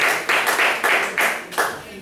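Applause from a church congregation, several bursts of hand clapping, fairly loud and close, over a faint murmur of room noise.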